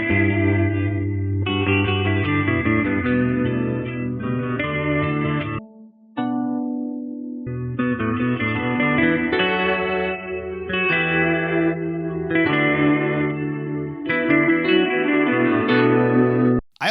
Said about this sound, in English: This guitar part in this song has a lot of reverb on it